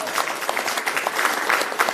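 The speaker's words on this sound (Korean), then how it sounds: "박수를 받았기 때문에 이만으로 마치겠습니다" An audience at a political party meeting in Ulsan gives dense, continuous applause, many hands clapping together at close range for a couple of seconds with no clear speech over it.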